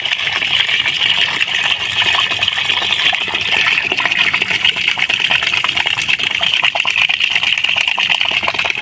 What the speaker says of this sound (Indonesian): Selanjutnya kita buka keran dengan keran yang besar.